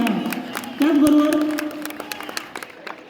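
An audience at a Chhatrapati Shivaji Maharaj Jayanti celebration bursts into loud, dense clapping that swells and then thins into scattered claps, with a voice speaking over the start.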